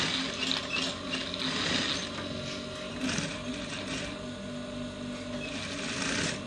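A sewing machine stitches trouser fabric with a steady mechanical whir and rapid ticking of the needle, continuous and fairly close, with no talk over it.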